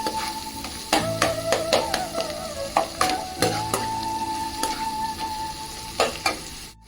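Onions frying in a pan with garlic, turmeric and salt for an onion omelette, a steady close sizzle broken by repeated clanks and scrapes of a spoon stirring.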